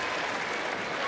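A tennis crowd applauds at a Federer versus Ljubicic match at the 2006 NASDAQ-100 Open, as dense, steady clapping that fills the whole moment at an even level.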